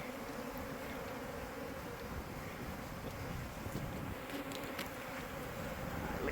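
Honeybees buzz in a dense, continuous drone while being removed from a house soffit, with wind buffeting the microphone and occasional faint clicks.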